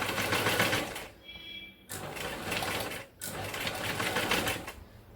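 Domestic sewing machine stitching a cross-cut piece onto a blouse neckline, running in steady bursts of rapid, even motor-driven stitching with brief pauses between runs, close and alone.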